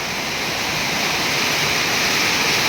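Heavy rain pours down in a dense, unbroken hiss, loud and close, with no breaks and no voices.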